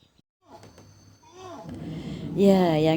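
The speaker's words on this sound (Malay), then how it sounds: "Itu suara orang hutan betina ya, dia memanggil entah ke mana pacarannya ya." A female orangutan calls out for its mate from the treetops, rising and wavering cries that build in loudness toward a strong, warbling final call, with faint background noise.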